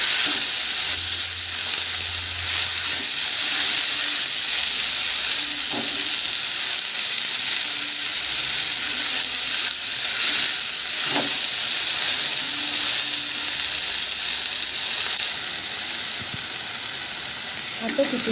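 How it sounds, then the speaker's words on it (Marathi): Khandeshi spring onion greens sizzle loudly in a pan as they are stirred, a dense continuous hiss with occasional scraping stirs, easing slightly toward the end. "भाजी सगळी टाकून झाल्यावर मस्त अशी हलवायची।"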